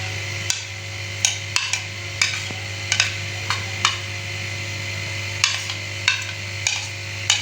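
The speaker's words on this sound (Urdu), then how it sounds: "سب سے پہلے ڈال رہے ہیں جی ہم آئل۔ یہ پیاز ہیں اور ساتھ ہی یہ گرین پیاز ہے۔" Chopped onions and green onions fry in hot oil with a steady sizzle, broken by repeated sharp taps and scrapes of a utensil against the pan at an uneven rhythm, up close and with no talking.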